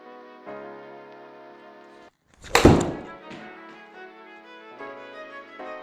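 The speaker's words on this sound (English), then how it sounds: "So I'll take another shot." A golf club strikes a ball off a soft practice mat with a single sharp thwack, standing out loudly against sustained electronic tones that drop away just before the hit and resume afterward.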